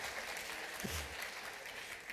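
An audience at a seminar applauds during a speech, a steady, fairly faint wash of clapping from a room of listeners that continues throughout.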